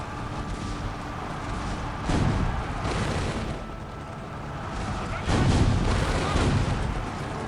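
Cannon and artillery fire in the strategy game Imperial Glory, a dense rumbling barrage with heavy booms swelling in waves and staying loud and continuous throughout.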